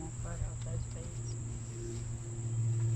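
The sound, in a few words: bees buzzing around a log hive during rehousing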